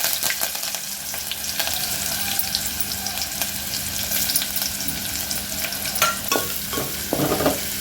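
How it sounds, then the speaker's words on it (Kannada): Onion and curry leaves sizzle in hot oil, a steady crackling fry heard up close with occasional stirring scrapes and clinks toward the end, no voices present. "ಈರುಳ್ಳಿ ಮತ್ತು ಕರಿಬೇವು ಸ್ವಲ್ಪ ಫ್ರೈ ಆಗಲಿ."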